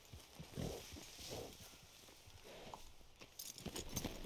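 Horse hooves clop on the ground in the Red Dead Redemption 2 video game, a few uneven, fairly soft steps under ambient game noise with no talking.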